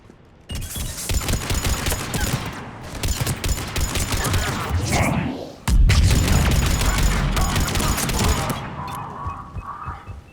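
Heavy sustained gunfire from a Mass Effect 3 firefight, rapid bursts nearly continuous with a loud boom partway through and a short break before firing resumes, close and intense.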